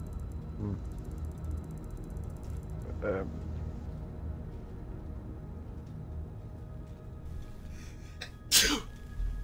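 A single sharp sneeze bursts out close by near the end, following a quieter earlier sneeze-like burst, over a steady low background hum and faint mechanical clicks, with no talk.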